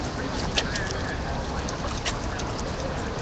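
Ducks quacking outdoors at a San Francisco protest gathering, a couple of short quacks rising over a steady wash of broadband outdoor noise.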